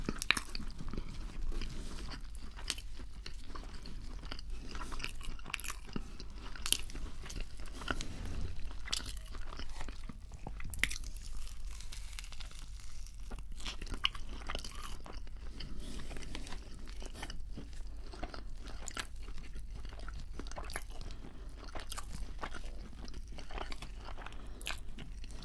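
Burger King chips are chewed close to the microphone, producing a continuous run of soft crunches, bites and crinkly mouth sounds at a quiet level with no talking.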